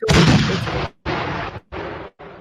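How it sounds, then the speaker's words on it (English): A spoiler cannon sound effect played from a file during a podcast: four loud, rough bursts in quick succession, the first longest and heaviest, the rest shorter with brief gaps, like cannon blasts. "Fire the spoiler cannon!"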